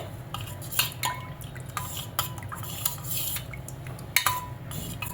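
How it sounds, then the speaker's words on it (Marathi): A spoon stirs thandai with rose syrup and rose petals, clinking against the glass or vessel in repeated light taps and scrapes, fairly quiet and close. "एक टेबलस्पून रोज सिरप गुलाबाच्या पाकळ्या आपल्या आवडीनुसार थोड्याशा ओल्या गुलाबाच्या पाकळ्या सुद्धा आपल्याला हे व्यवस्थित मिक्स करून घ्यायचं"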